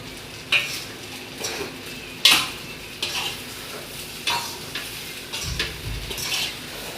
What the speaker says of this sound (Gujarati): એને ગેસ ઉપર ધીમો ગેસ રાખીને ધીમે ધીમે આવી રીતે હલાવતા રહે